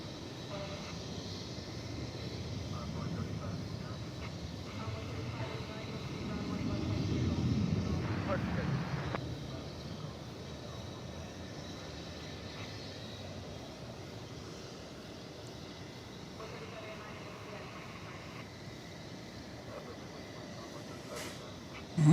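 A Qatar Airways airliner bound for Doha moves at DFW Airport at night: a distant low jet rumble swells near the middle and then fades back into steady airport background noise.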